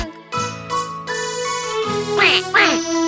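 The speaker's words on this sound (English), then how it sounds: "Sad mother duck said quack, quack, quack" A mother duck quacking in a children's nursery rhyme song, with repeated nasal quacks over a bright, sustained musical backing, loud and close.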